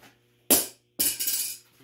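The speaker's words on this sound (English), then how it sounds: "now I'm going to drop kick them" A pair of Knipex Cobra pliers gets drop-kicked and makes two sharp metallic clattering hits about half a second apart. The second is followed by a short rattle as the tool skitters and settles, close by with no talk.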